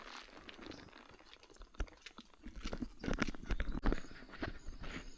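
Horse hooves clop along a Wisconsin trail at a walking pace, close by, with crunching and shuffling mixed in and no talking.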